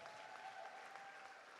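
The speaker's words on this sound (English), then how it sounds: "Can we have another round of applause for our salutatorian and valedictorian?" A graduation audience at a commencement ceremony applauds its salutatorian and valedictorian with a soft, continuous patter of clapping heard from a distance, accompanied by a faint steady tone.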